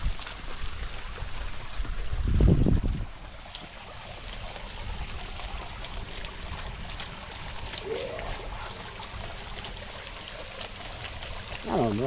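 Water flowing and trickling into a newly installed backyard pond liner, a steady wash of running water with faint splashing throughout and a few soft thumps; no one speaks.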